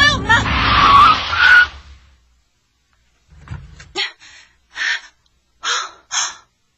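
Magpie calls in a 1996 Korean animated film: a few short, harsh chattering bursts spaced about a second apart, following an earlier stretch of louder, busier sound.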